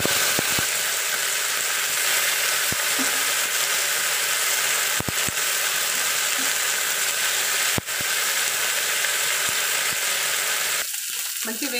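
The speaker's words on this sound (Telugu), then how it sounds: "ఫస్ట్ దాన్ని ఫ్రై చేసుకుందాం." Washed mint leaves fry in hot oil in a pan for a tomato roti pickle, giving a steady, loud sizzle throughout with a few sharp clinks of stirring, then a sudden drop in the sizzle near the end.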